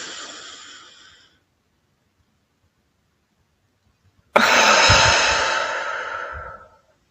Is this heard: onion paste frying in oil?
no